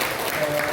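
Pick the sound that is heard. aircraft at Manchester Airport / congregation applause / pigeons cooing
congregation applause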